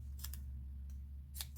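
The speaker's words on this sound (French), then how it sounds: "Mes petits ciseaux." Small scissors cutting thin 3D foam for a handmade Easter postcard, a few quick, crisp snips close by in a quiet room, in two short bursts.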